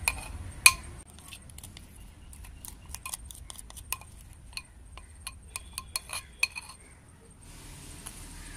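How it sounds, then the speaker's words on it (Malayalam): A cake tin holding eggless dalgona coffee cake batter is tapped against a hard surface to knock out air bubbles. The result is a series of sharp, quiet knocks and clinks at irregular intervals over a soft background. "ഇതിൻ്റെ ഉള്ളിലത്തെ എയർ ബബിൾസ് പോകാൻ വേണ്ടിയിട്ടാണ് ഇങ്ങനെ തട്ടുന്നത്"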